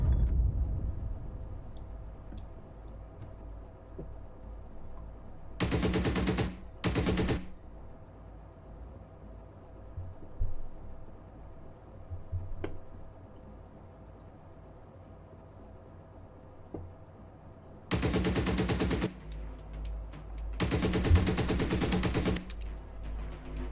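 Combat in the DCS or GHPC military simulator during an artillery barrage: four long bursts of rapid automatic fire, loud and sharp, separated by stretches of low rumbling quiet.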